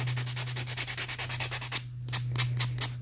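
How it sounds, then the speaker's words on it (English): Small scrap wood pieces for a planter box are sanded by hand in quick, rhythmic back-and-forth strokes, each scratchy rub close and distinct, over a steady low electrical hum, with a brief pause before the strokes resume. "So it makes it a little bit easier to sand these details, small pieces."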